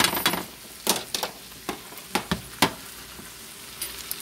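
Eggs, onions and potatoes frying in a pan, with a background sizzle punctuated by a string of sharp clattering scrapes and knocks of a utensil stirring, close and fairly loud, no talking.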